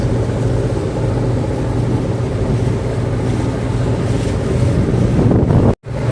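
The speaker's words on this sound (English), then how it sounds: "There's some wind, some breeze as the ferry moves." Steady wind buffeting on the deck of a moving ferry near Cijin Island in Kaohsiung, a constant low rumble of breeze and engine-driven motion with water noise, loud and continuous, cutting off briefly near the end.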